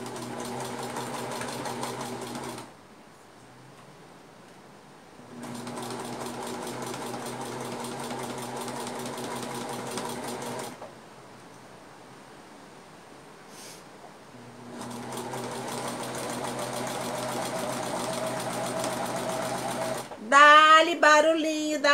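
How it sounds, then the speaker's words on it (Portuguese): A sewing machine runs in three long bursts while a cloth doll is being made, a close, even motor hum with rapid stitching chatter, separated by quiet pauses, followed at the end by someone speaking. "Barulhinho da máquina"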